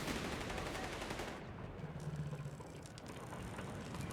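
A .50 cal machine gun firing in Company of Heroes 3, rapid rattling bursts running steadily at moderate volume with faint battle noise behind.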